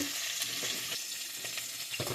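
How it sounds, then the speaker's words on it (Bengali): Sea crabs sizzle steadily in hot oil in a pan, with a few soft scraping knocks as the fried pieces are lifted out; close, continuous and without talk. "কাঁকড়াগুলো ভালো করে ভাজা হয়ে গেছে কাঁকড়াগুলো আমি তুলে নিচ্ছি"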